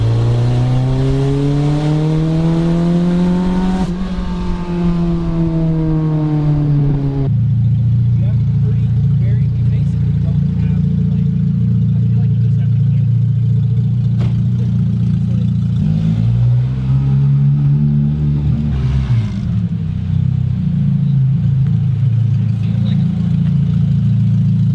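A Toyota MR2 with a swapped naturally aspirated K24 engine revs and accelerates up close, pitch rising and falling through several pulls with a brief gear change, while people talk over it.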